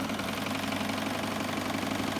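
A Bernette b64 Airlock overlock sewing machine, threaded for three-thread overlock, runs in a steady, even mechanical hum with a fine rapid rattle, fairly close and alone.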